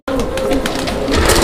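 A pair of pigeons for sale coo softly in a rhythmic, repeated pattern, close by under someone talking.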